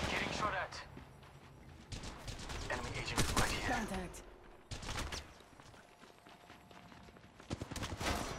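Pistol gunfire in the mobile shooter Apex Legends Mobile, a few sharp shots and bursts spread through a busy game mix, with someone talking over parts of it.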